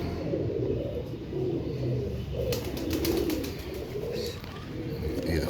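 Pigeons of the Imam Deen breed coo with soft, low, repeated throaty calls from close by, steady throughout, along with faint rustling and a brief burst of higher chirps.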